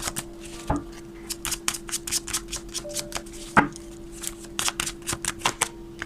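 Tarot cards are shuffled and handled during a Thai reading, quick crisp riffles and flicks in irregular bursts with a few sharper slaps, close and clear without speech.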